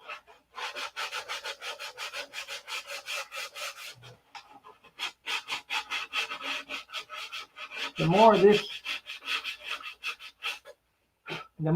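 Steady back-and-forth rasping of sandpaper on wood, repeated in quick regular strokes, close by, with a brief pause and a few words spoken partway through.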